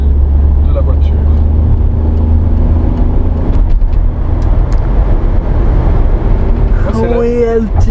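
A Peugeot 2008 phase 2 pulls hard while accelerating, its engine droning steadily with a rising tone inside the cabin and a passenger's voice heard near the end.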